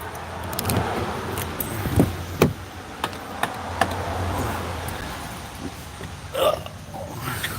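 Keys jingle and a door latch clicks as a well-worn truck with cloth seats and 464,000 miles is unlocked and opened, with several light metallic clicks and knocks at close range over soft background noise.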